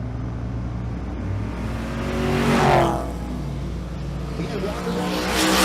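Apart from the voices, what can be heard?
2010 Chevy Camaro revving at drag race launch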